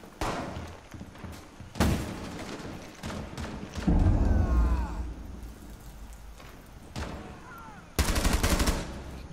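Gunfire in Tom Clancy's Rainbow Six, with several sharp bursts of shots separated by quieter stretches, one longer rattling volley and a final loud burst, with brief game voice lines in between.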